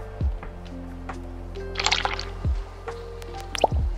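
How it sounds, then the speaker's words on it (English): A drinking container being filled with water in the sailing game Sailwind: soft liquid drips and a brief gurgling pour in the middle, framed by a few hollow knocks, close and fairly quiet with no voices. "I can fill that up with water."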